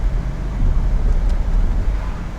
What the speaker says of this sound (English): So now with the top down, we really do get to hear that beautiful exhaust note of this car.